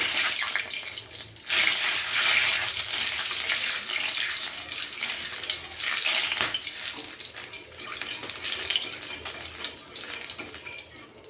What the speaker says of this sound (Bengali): এবারে ফোড়নের জন্য দিয়ে দিচ্ছি 2টো শুকনো লঙ্কা আর গোটা গরম মশলা